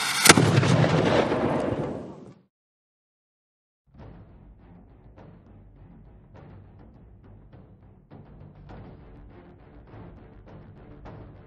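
A historic cannon fires at Fort Ticonderoga, one loud boom that rumbles and fades over about two seconds, followed by silence and then a distant, crackling rumble of outdoor ambience.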